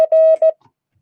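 Morse code practice tones: a loud, clean steady beep keyed on and off in three quick elements, one longer dash between short dots, then silence.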